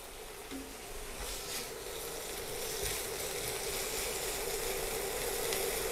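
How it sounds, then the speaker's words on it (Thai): Sliced chicken breast stir-frying in a hot pan for a chili pepper dish, giving a steady, even sizzle that carries through the whole stretch with no voices. "เราก็ใส่ อกไก่ที่เราหั่นชิ้นไว้นะคะ ลงไปผัดค่ะ"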